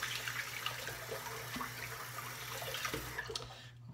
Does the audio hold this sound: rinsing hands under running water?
yes